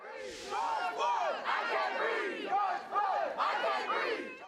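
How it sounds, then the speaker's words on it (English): A large crowd of racial-justice protesters marches through downtown Green Bay on a Saturday night, many voices chanting and shouting together in loud, continuous waves with rising bursts. "The large crowd took over downtown Green Bay Saturday night"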